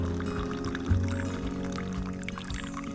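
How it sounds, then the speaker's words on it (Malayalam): Hot water is poured into a cup of instant Bru coffee mixture, a close, steady liquid stream with a short splash as it starts, heard alone. "നേരത്തെ ആ വെള്ളം അതിലോട്ട് ഇങ്ങനെ ഒഴിച്ചു കൊടുക്കുക"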